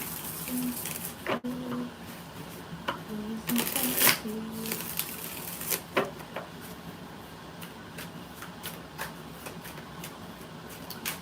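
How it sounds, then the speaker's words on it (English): Tarot cards being shuffled during a live reading, with repeated soft riffling and tapping bursts spaced through the stretch, close and fairly quiet, under occasional talk. "Two more shuffles for the hell of it."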